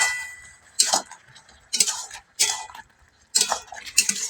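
A spoon or spatula scrapes and clinks against a pan while a Bengali gourd-leaf dish with white mustard paste and sesame paste is stirred, giving several short, close metallic scraping bursts separated by brief pauses.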